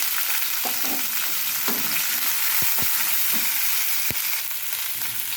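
Spices for a tempering for wheat upma sizzle and crackle steadily in hot oil, a dense continuous frying hiss broken by a few sharp pops and faint stirring scrapes, heard close with no talk.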